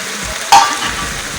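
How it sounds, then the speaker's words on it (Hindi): Chopped tomatoes stirred into minced meat in a hot pan: a brief scraping swish over a steady, close sizzle of frying, with no voices. "बस इसको मैं हल्का सा मिक्स करूँगी।"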